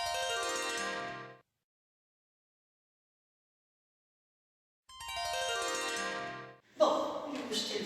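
An old-fashioned telephone on a mantelpiece rings in two long bursts, loud and bright, separated by several seconds of silence; a clatter and handling noise follow as the receiver is picked up.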